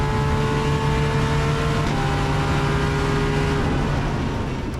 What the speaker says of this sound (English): this car at full tilt down the front straight here at Sydney Motorsport Park is something you just have to hear